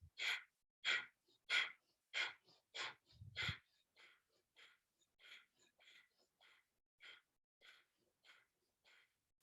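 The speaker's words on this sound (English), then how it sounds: "Should hear yourself breathing." Rhythmic breathing, a steady series of short forceful exhales repeated about every half second, gradually fading softer.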